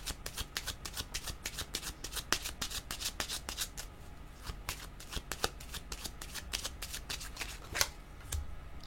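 Playing cards riffled and shuffled by hand, a dense flurry of crisp flicks and snaps with a few sharper slaps as cards are drawn, close and alone.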